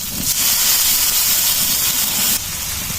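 Water is poured into a hot pan of chopped green chillies and chilli powder for a soyabean and capsicum vegetarian curry. A loud, close, steady hiss and sizzle drops slightly in level near the end.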